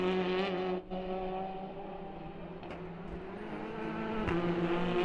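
TCR touring race cars lapping the Salzburgring circuit, their engines blending into a steady, fairly loud droning roar that holds for the whole stretch with no talk over it.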